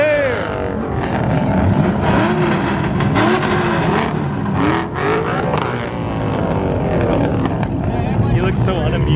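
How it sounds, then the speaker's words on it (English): Car engines revving loudly at a street takeover during spring break, with rising and falling roars close by and a crowd talking and shouting throughout. "They're revving, the boys are right there."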